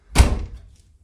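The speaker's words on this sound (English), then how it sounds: "I'll close this door so we don't get all that road noise." A door on a bunk bed sheep camp trailer swings shut with a single solid, close thunk that decays quickly into silence, no voices.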